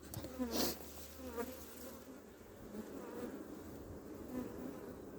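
Honeybees buzz inside an opened beehive in spring, a soft, steady hum of many insects with a few louder passes close by, with no voices.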